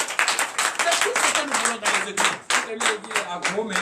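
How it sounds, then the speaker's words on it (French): Rapid, steady clapping from a church congregation at a Sunday service in Benin fills the whole stretch, loud and close, with voices mixed in underneath. "Donnez l'acclamation à Christ."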